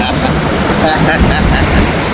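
Dense road traffic crawling along a narrow, congested street near SM Bicutan, a loud continuous roadway rumble of cars, buses and trucks close by, with voices talking over it.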